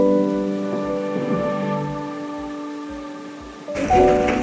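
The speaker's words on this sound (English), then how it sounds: "it started to rain" Heavy rain pours steadily on a shelter during a bike trip in Nepal, a dense, loud hiss over a low engine hum that swells louder near the end.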